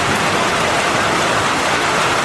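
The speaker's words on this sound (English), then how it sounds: "Water just pouring out of there." Heavy rain and floodwater pour down in a flooding neighbourhood of Angeles City, Philippines, a loud, dense, unbroken hiss and rush filling the whole short stretch, with no voices.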